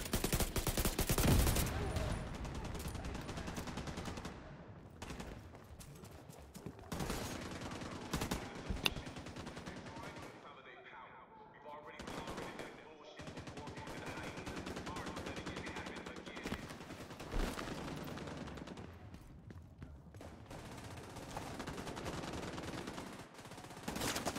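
Extended firefight in The Division 2, with repeated bursts of automatic gunfire and single shots coming in waves over roughly twenty-four seconds, loud and close with short lulls between volleys.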